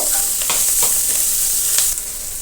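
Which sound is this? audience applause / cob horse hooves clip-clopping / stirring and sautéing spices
stirring and sautéing spices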